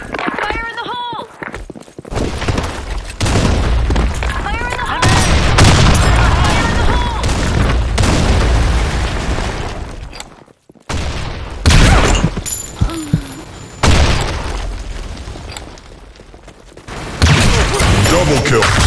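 Bursts of gunfire and booming grenade blasts in a first-person shooter match, loud and dense, with voice callouts and game announcer lines layered over the chaotic battle noise and a brief near-silent gap midway.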